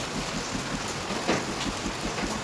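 Steady rain falls in an even, continuous hiss that never breaks, close and moderately loud, with no voices over it.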